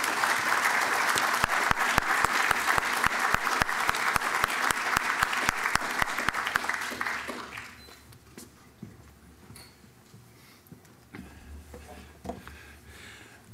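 Applause from an audience at an engineering lecture event, dense clapping for about seven seconds that then thins out and fades to scattered claps and room noise.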